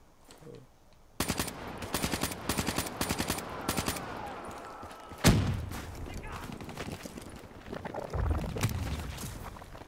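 Turret gunfire in Call of Duty Black Ops 3: long rapid bursts of machine-gun fire, loud and close, then a heavy blast followed by more scattered shots and rumbling impacts, with a voice speaking over part of it.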